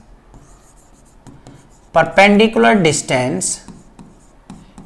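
Marker or chalk scratches faintly on a classroom board during a Class 8 mensuration maths lesson, soft strokes first, then a teacher's voice speaks over them.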